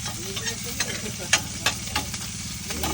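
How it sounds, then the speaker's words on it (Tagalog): Buro, fermented rice, sautéed in a pan with a steady close sizzle and repeated stirring scrapes and taps, over a low engine-like hum. "Ito nga po pala mga idol ang pagigisa ng buro"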